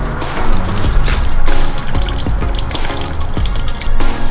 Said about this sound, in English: coolant's going to come shooting out of there